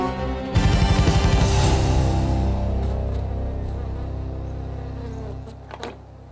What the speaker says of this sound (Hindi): इस बॉक्स में दुनिया की सबसे खतरनाक मधुमक्खी हैं।